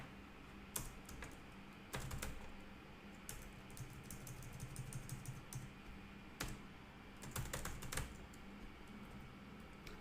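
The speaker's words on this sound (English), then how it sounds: "when you type the column name" Bursts of computer keyboard typing come in quick clusters of clicks over a steady low room hum while a formula or column name is entered, fairly close and moderately loud, with short pauses between runs.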